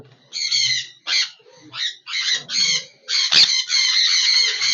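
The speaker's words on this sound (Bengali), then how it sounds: "যে পুরনো পাখিগুলো আছে নতুন পাখিগুলো ছাড়ার পরে তারা কিভাবে ওদের ডিস্টার্ব করছে, দেখুন কামড়া কামড়ি করছে" Sun conure parrots, about one and a half to two years old, squabble and bite each other, loud harsh screeching squawks in repeated bursts close by, with short pauses between outbursts.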